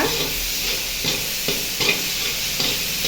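Salted chopped onions are stirred in a hot pan, a bright steady sizzle punctuated by four or five scraping stirs at regular intervals, close-up.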